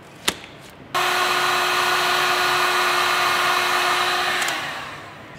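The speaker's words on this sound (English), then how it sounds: "I've been heating this up with a hot air gun for about 5 minutes now" A hot air gun heating a gearbox bearing on a Ford Mondeo Mk5 2.0 diesel, switching on abruptly into a loud, steady whirring roar with a constant tone, running about three and a half seconds before winding down, preceded by a brief knock.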